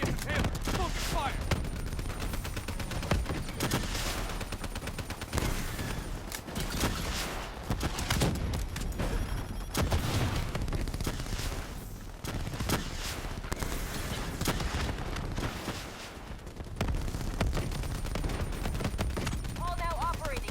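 Sustained video-game gunfire crackles in rapid bursts during a boss fight against an armored Manticore, loud and continuous with short lulls, mixed with game effects and occasional voice chatter.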